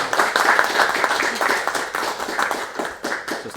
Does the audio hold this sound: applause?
yes